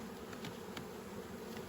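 Honey bees buzz in a dense, steady drone at an opened weak single beehive, a close, low hum with occasional louder passes of individual bees.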